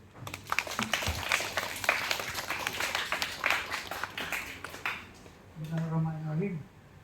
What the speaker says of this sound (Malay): Silakan berikan tepukan